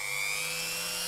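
A variable-speed power tool cutting along the edge of a model railway building, giving a steady high-pitched whine that holds constant and loud for a short moment with no talking.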